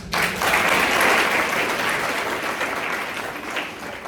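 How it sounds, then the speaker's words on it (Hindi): An audience at a Hindi lecture breaks into spontaneous clapping, a dense burst of applause that starts abruptly, holds strong for a few seconds and then gradually thins. "तुम लोगों ने मेरा बिना कही हुए ताली बजा दिया"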